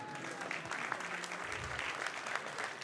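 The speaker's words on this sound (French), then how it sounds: "vous pouvez applaudir la loi si vous voulez" An audience at a political speech launching a youth movement breaks into steady applause, a fairly faint but continuous patter of many hands with a murmur of crowd underneath.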